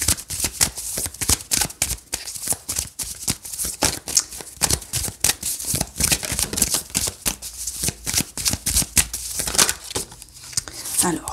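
Crisp riffling and snapping of a deck of tarot cards being shuffled close up, repeated quick bursts in a steady rhythm lasting throughout, with no one speaking.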